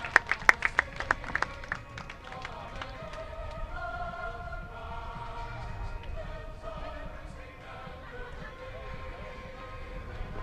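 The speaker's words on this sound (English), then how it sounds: "Round of applause, especially for our Marine veterans." Brief scattered clapping from a small outdoor crowd at a Veterans Day parade in Hilo, Hawaii, a few sharp claps at the start, then a sustained tone and faint background noise with voices.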